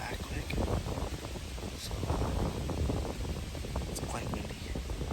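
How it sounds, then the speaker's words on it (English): Wind blows steadily outdoors at a deer bow-hunting stand, a continuous broad roar with gusty rustling, while someone speaks quietly over it. "it's quite windy"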